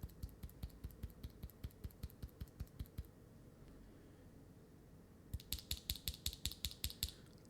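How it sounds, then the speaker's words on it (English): Rapid, evenly spaced clicks of Epomaker Sea Salt Silent keyboard switches being pressed, a quiet muffled run first, then after a pause a brighter, sharper clicking sequence. "I came across these Epomaker Sea Salt Silent switches"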